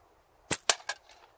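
GZK Hammer air rifle firing 8mm steel ammo on an outdoor hunt: three sharp, close cracks within about half a second, each decaying quickly.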